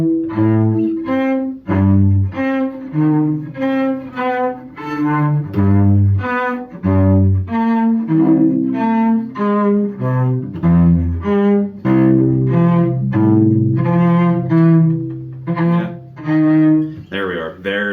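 A cello plays a fast Vivaldi Allegro passage with wide string crossings, bouncing from high notes back down in a steady run of bowed notes, loud and close, alone without talk.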